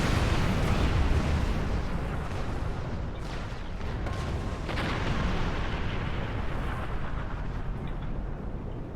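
Starship weapons fire continuously in a Star Trek video game battle, a loud, dense roar of blasts and explosions that runs without a break.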